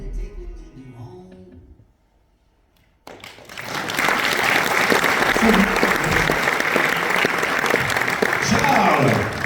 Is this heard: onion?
no